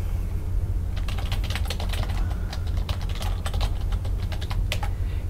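Computer keys clatter in steady, close typing as a login is entered, with brief pauses between runs over a low constant hum.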